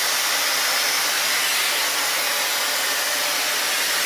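A hair dryer blows loudly and steadily while drying hair, a dense unbroken airy roar close to the microphone with no talk over it.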